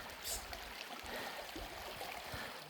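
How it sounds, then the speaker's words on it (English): Stream water flowing at a creek crossing on a Sedona trail, a steady broadband rush with soft gurgles, moderately close and continuous, with no talking. "This is our 7th or 8th creek crossing"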